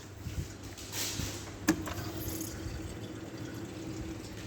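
A hydraulic bench pump runs with a steady low hum while it fills a volumetric tank with water, giving a continuous rushing wash and one brief knock partway through. No one speaks.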